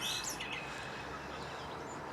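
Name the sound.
birds singing at dawn in a small copse, including starlings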